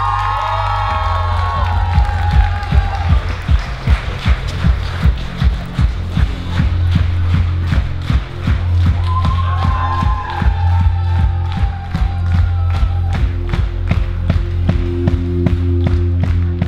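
An open-air concert crowd claps in a steady rhythm and cheers loudly, with sustained low musical tones running beneath the clapping throughout.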